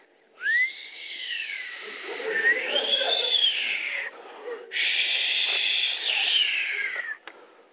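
A performer's voice imitates a cold, howling winter wind, with rising and falling whistling sweeps in two long gusts, loud and close, alone.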